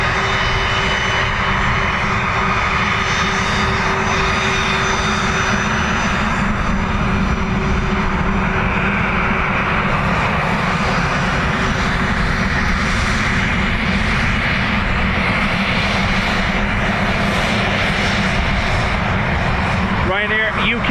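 Loud, sustained roar of a Ryanair jet taking off from runway 10 right at Dublin Airport, a continuous engine rumble heard from nearby with spotters talking over it.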